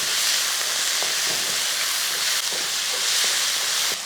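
Tomatoes sizzle and hiss steadily in a hot pan for a cauliflower curry, a loud, constant frying noise with a few faint clicks of stirring and no talking.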